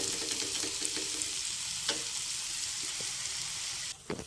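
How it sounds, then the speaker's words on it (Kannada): Puliyogare paste from a packet frying in a pan sizzles loudly and continuously, with stirring scrapes at intervals and the hiss dropping off near the end, no voices. "ಪುಳಿಯೋಗರೆ ಪ್ಯಾಕೆಟ್ನ ಹಾಕ್ಕೊಂಡು ತುಂಬ ಹೊತ್ತೇನು ಬಿಸಿ ಮಾಡೋದು ಬೇಡ ಸೊ ಅದು ಬೇಗ ಆಗುತ್ತೆ ಅಲ್ವಾ ಹಾಗಾಗಿ ಸ್ವಲ್ಪ ಹಾಗೇ ಫ್ರೈ ಮಾಡ್ಕೊಳ್ಳೋಣ"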